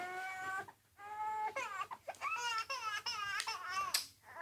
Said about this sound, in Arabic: في صوت بيبي عنا بالبيت، من وين جاي هالصوت؟